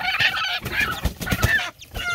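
A hen clucking and calling in a yard, a run of loud close squawking notes and short clucks in uneven bursts, with a brief pause near the end before another call.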